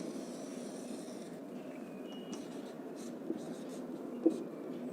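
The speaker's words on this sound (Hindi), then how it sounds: "मैं डेफिनेशन यहाँ पे लिख देता हूं।" Handwriting a definition on a board or page, with soft, steady scratching strokes and a few small taps, heard alone and fairly quietly.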